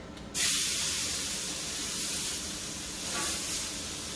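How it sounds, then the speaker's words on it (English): A tomahawk steak hits a hot skillet with a sudden loud hiss that bursts in, then settles into a strong, steady sear, swelling slightly again near the end, with no talking. "we're going to go ahead and put this steak in there and sear it"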